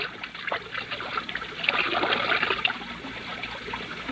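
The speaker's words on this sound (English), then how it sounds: "They can't hear the fountain from the house" Garden fountain playing outdoors at night, water splashing and trickling close by in an uneven, continuous patter that swells slightly midway, with no voices.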